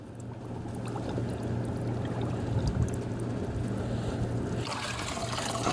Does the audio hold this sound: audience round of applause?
no